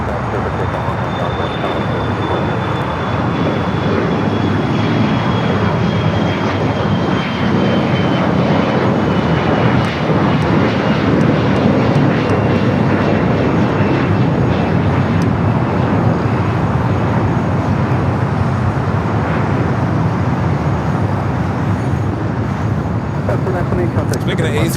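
A jet airliner at Los Angeles International Airport roars steadily through its takeoff, a loud, continuous engine rumble that holds for the whole stretch with faint voices mixed in underneath.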